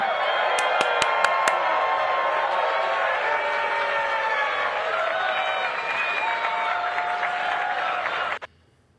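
A large crowd at the Libertarian National Convention cheers and applauds loudly and continuously, with a few sharp claps and whoops standing out early, before the noise cuts off abruptly near the end.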